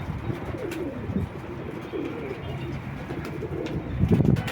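Domestic pigeons coo in low, rolling bursts against a steady roar of strong wind in Basra, the gusts swelling louder near the end.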